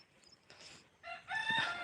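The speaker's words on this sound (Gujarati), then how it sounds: "વાડીના કુકડા પણ બોલી જશે" A rooster crows on a farm field in the morning, a faint, somewhat distant cock-a-doodle-doo rising near the end over quiet outdoor background.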